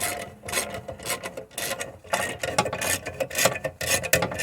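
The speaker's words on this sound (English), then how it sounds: "got my ratchet on one of the leftmost axle nuts, and I just back it out." A ratchet wrench backs out a rear axle nut on a BMW E61, a series of quick, close clicking and rasping strokes in short uneven bursts.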